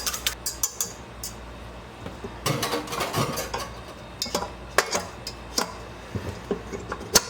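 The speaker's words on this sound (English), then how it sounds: "I'm just going to whisk that up real quick" Salt is whisked into a pasta dough mixture in a bowl, giving quick irregular clinks and taps of a whisk against the bowl in close, busy bursts with brief pauses.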